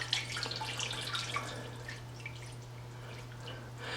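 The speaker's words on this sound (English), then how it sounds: "I'm going to put a little water over the top" Water is poured over a smoked roast chicken in a pan, making a light, trickling, splashy patter over a low steady hum, with no talking.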